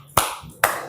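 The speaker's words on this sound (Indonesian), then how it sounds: "Jika Ibu bilang tepuk 1 kali, tepuk 2, ya, tepuk 3," A class claps hands in unison during an ice-breaking game, two sharp, separate claps about half a second apart, close and crisp in a quiet room.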